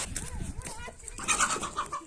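Hens cluck and squawk in short bursts close by, with a person calling out over them partway through.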